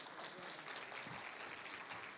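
Faint audience applause at an agricultural talk on soybean production, a soft continuous patter of clapping heard from a distance with no voices over it.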